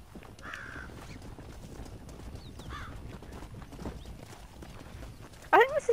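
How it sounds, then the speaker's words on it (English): Horse hooves clop steadily in the background of the video game Red Dead Redemption: Undead Nightmare over a low ambient bed, with occasional crow-like caws and a brief sharp cry near the end. "Those people almost hit me with their horses."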